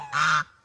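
One short, loud, nasal honk from a goose in a garden, close by and lasting under half a second, then quiet.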